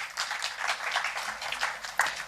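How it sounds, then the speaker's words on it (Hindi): An audience at a Hindi literature festival on Dalit and Adivasi women's writing gives a steady wash of applause, dense overlapping claps at moderate volume with a few sharper accents. "आप सभी उनका जोरदार तालियों के साथ स्वागत कीजिए।"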